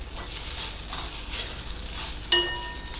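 Grated dry coconut being stir-fried with cooked onions for Marathi shev bhaji: a soft, continuous sizzle with gentle stirring swishes, then one sharp metallic clink near the end. No voices are heard.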